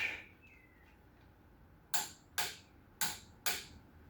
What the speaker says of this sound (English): let's use a torque wrench and let's just get it turned up a little bit and then see what I've got them tightened at